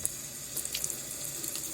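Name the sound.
rinsing a spoon under running tap water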